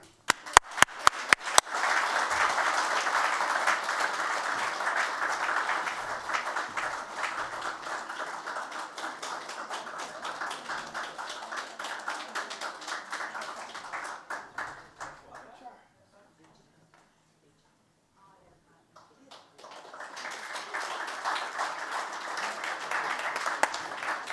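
Audience applause for the third-place finisher at a district speech evaluation contest final, a dense steady clapping that runs for about fifteen seconds, drops to near silence, then swells again.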